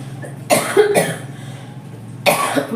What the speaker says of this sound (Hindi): सॉरी, मुझे थोड़ी सी खांसी हो रही है।